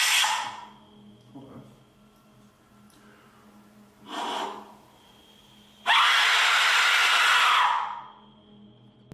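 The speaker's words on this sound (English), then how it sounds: "now it's time for a scream with an Aztec whistle" Several breathy rushes build to a long, loud, harsh shriek lasting about two seconds, a piercing scream from an Aztec death whistle that cuts off abruptly.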